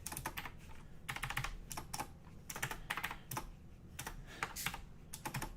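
Rapid typing on a very noisy computer keyboard, loud clattering bursts of keystrokes in uneven clusters with brief pauses, close up and without voices.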